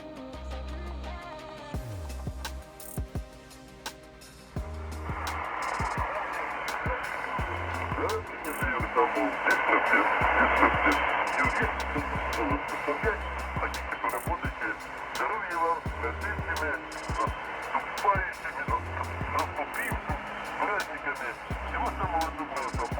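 A Tecsun PL-330 shortwave radio tuned to 14122 hisses and crackles with a noisy, fluctuating signal and faint tones, while a low rhythmic thump repeats underneath.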